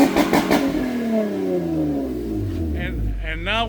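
A Honda Accord with a new three-inch exhaust and cutoff valve revs hard, its note falling as the throttle eases off, loud and close, with people talking at the start.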